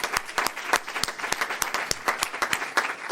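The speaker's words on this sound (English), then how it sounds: "Let's give him another round of applause" An audience claps with sharp, distinct claps in a loose irregular rhythm, steady and fairly close, from a crowd at a speech by a minister.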